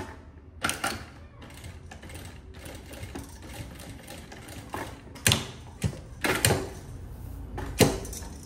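A sewing machine stitches a seam with a margin set by the width of the presser foot, running in short, uneven mechanical bursts separated by brief pauses, close up and fairly quiet.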